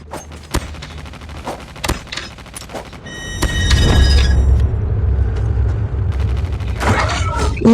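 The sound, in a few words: gunfire in Call of Duty video game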